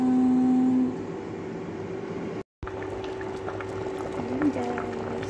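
Milk heating in a pot toward a boil gives a steady, close, low bubbling hiss throughout, with a brief dropout midway and a faint hum at the start.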